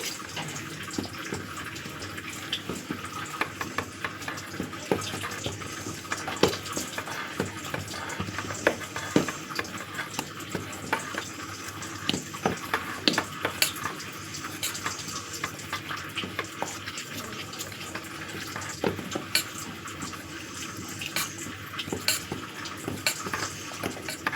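Topse fish being mixed with butter in a bowl by hand, wet squelching and dabbing sounds in an irregular, continuous rhythm, close and moderately loud.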